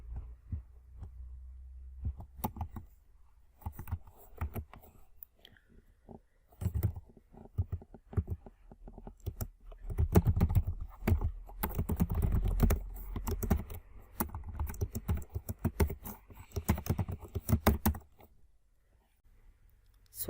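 Steady bursts of keystrokes on a computer keyboard as code is typed for a React sign-up form, close and fairly quiet, with uneven rhythm and brief pauses between runs of keys.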